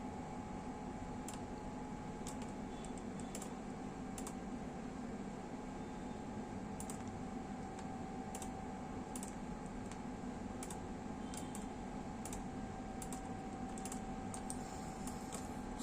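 Steady keyboard typing at a GE 1.5 Tesla MRI scanner console, with sparse separate key presses spread across the span over a constant hum of equipment and fan noise.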